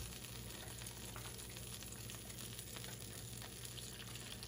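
Eggs frying in a cast iron pan, a soft continuous sizzle with faint crackles, close by and steady throughout.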